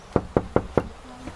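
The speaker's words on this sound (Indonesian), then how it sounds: "diketok-ketok nggak apa-apa deh" Four firm, evenly spaced knocks on a house door, close and loud with no talk over them, followed by a faint trailing tone.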